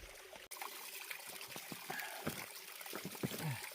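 Running water from a mountain stream on the Howe Sound Crest Trail trickles and splashes steadily and close by as bottles are filled, with small gurgles and bubbling bursts near the end.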